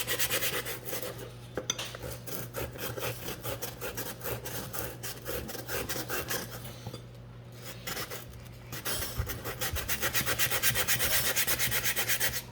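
Sandpaper of 80 grit scrubs rust off a small cast iron pan in rapid, steady back-and-forth strokes, a close, gritty rasping that runs continuously with brief pauses and no talking.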